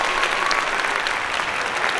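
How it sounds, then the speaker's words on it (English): Steady applause from a small studio audience at a podcast recording, a dense even wash of clapping that holds at the same level from start to finish with no voices over it. "Applause, please."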